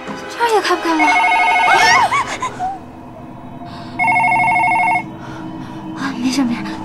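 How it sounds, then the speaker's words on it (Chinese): A telephone rings in an indoor drama scene, with two bursts of bright electronic trilling separated by a short gap, under and between frightened voices and a scream. "没事没事，电话。"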